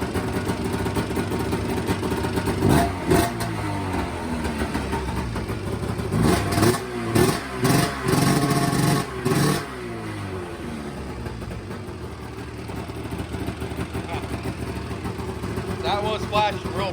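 A Polaris RMK 770 big bore snowmobile engine idles near 1500 rpm, a steady close mechanical drone with a few brief revving bursts in the middle, while someone talks over it.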